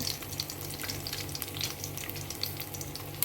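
Dried chillies, garlic, urad dal, mustard seeds and cumin frying in oil, a steady soft sizzle with faint pops and crackles, heard alone at moderate volume.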